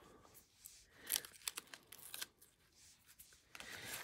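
Green lace is torn and roughened by hand, heard as quiet, close scratchy rips and rustles in short irregular bursts, with a few sharper ticks.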